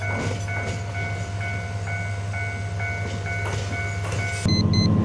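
A JR train runs between Furano and Asahikawa in Hokkaido, a steady loud rumble of the moving carriage with a sustained tonal hum and rhythmic clicks, no voices.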